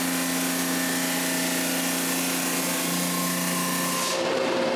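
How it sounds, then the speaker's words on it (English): A loud, steady drum sander drone with a grinding, abrasive hiss runs throughout as a wooden door frame part is sanded, cutting off sharply near the end. "to make everything on the same plane, I use a drum sander"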